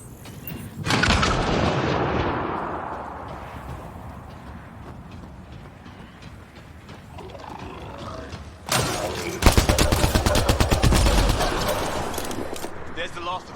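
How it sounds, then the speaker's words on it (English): Frag grenade explosion and gunfire in the video game Mass Effect: Andromeda: a heavy boom and rumbling bursts early on, then a loud dense stretch of rapid shots and blasts near the end. "Frag on the way."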